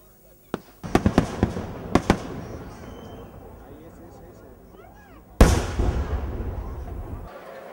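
Fireworks at the San Fermín festival in Pamplona: sharp cracking bursts, a quick cluster near the start, then a big close bang followed by crackling, with crowd chatter and voices underneath.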